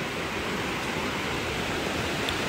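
River in Thailand flowing steadily, a dense even rush of water with no breaks, loud and close, with no voices over it.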